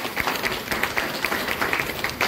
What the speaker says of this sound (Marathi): त्याबद्दल सर्वांनी टाळ्या वाजवल्या